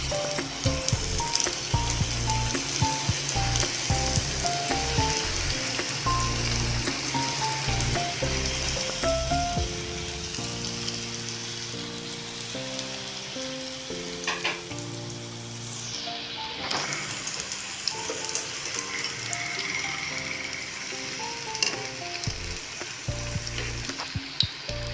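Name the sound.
chicken wontons deep-frying in hot oil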